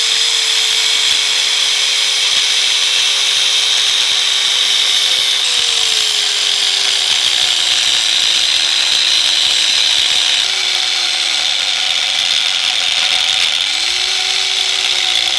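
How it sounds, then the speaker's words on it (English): Steady, loud angle grinder running continuously on steel pallet forks rated around 4,000 pounds, a constant high-pitched whine with the tone dipping slightly as the disc loads into the metal, no talking. "All right, let's get the grinder."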